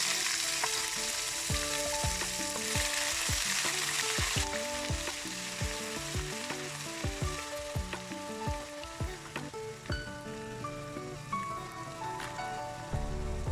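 Ginger garlic paste frying in hot mustard oil sizzles and crackles continuously up close, with scattered spoon clinks and stirring knocks against the pan.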